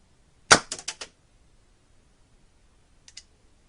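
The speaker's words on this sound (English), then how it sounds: "Now to fire, all that needs to be done is to squeeze the trigger." A miniature cannon built from a lighter fires with one sharp crack followed by a quick burst of three rattling clicks, then two faint ticks a couple of seconds later, with nothing else around them.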